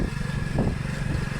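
A motorcycle runs at a rural race-competition ground in Chandunagla, its steady close engine drone filling the short stretch with a slight surge midway.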